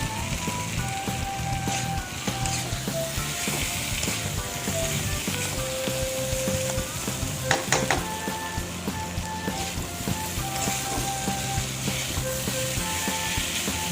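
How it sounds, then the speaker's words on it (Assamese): Fish sizzles and fries steadily in a hot pan for a bamboo shoot fish curry, a continuous close crackle with brief sharper pops and no talking. "এয়া দেখিছে আমি ফ্ৰাই কৰিছোঁ, ধুনীয়াকৈ ফ্ৰাই হৈছে গোটেইখিনি।"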